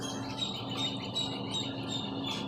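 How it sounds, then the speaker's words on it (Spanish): Small birds chirp and tweet steadily in the background, with repeated high calls over a low constant hum and no speech. "Escuchen los pajaritos de fondo."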